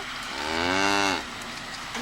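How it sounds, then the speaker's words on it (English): Highland cattle at a roadside stop near Callander give a single loud, drawn-out moo lasting about a second, heard up close with no other sounds around it. "we can see some Highland cattle"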